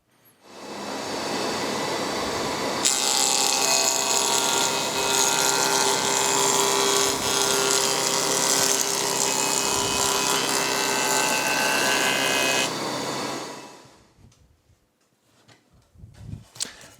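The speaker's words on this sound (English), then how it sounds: "we're just trimming off all of those fibres along that bottom edge" A planer cutter block trims fibres from a timber edge with a loud, steady machine roar lasting about ten seconds, then winds down to quiet.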